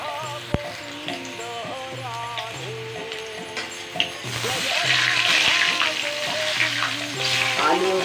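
Potatoes fry in a pan with black pepper and rock salt as a prasad dish for Amalaki Ekadashi, giving a steady close sizzle with occasional stirring clicks and scrapes; the frying grows louder and hissier partway through.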